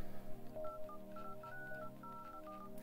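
HTC Hero phone dialer keypad tones, a string of short electronic beeps of varying pitch pressed in quick succession, steady and clear at moderate volume.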